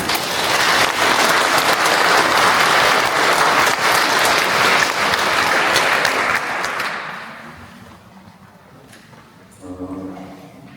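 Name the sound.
audience applause for a speaker at a church event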